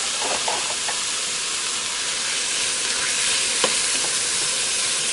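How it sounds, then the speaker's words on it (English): Beef sizzles and fries steadily in a preheated pressure cooker, a dense continuous hiss with a few faint spoon scrapes and pops, close and loud with no talking. "I'm going to add my beef in here. We're going to brown it."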